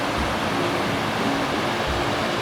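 A nearby waterfall on the Lamoille backpacking trail roars as steady, dense broadband rushing water with no pauses or voices.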